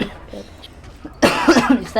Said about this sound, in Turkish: o yüzden videoda biraz fazla öksürük sesi olacak.